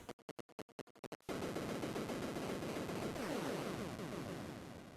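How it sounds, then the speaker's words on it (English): Loud, dense NES-style noise explosion from Konami's Teenage Mutant Ninja Turtles, opening with a rapid string of sharp crackling bursts, then a sustained roaring blast that slowly fades. "That's a very Konami explosion."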